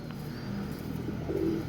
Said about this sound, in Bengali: দেখেন, একজোড়া নীলদুম্বা কবুতর মাশাআল্লাহ।